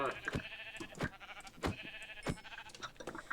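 Sheep bleating in a survival video game, several short harmonic bleats repeating at a steady close range over game ambience, with no talk.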